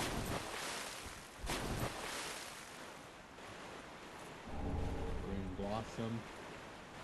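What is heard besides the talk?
water currents in Dark Souls 3 video game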